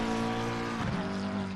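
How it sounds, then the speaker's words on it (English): McLaren GT3 race car in a sim racing test session passes through a corner, a dense steady engine drone with a short pitch dip and slight tire scrub midway, fairly loud, no voices. "You can see one of the McLaren's going through that corner there"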